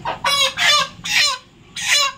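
A heavy poultry broiler chicken weighing about 3 kg clucks close by in four loud, strained bursts with short gaps between them and no talk.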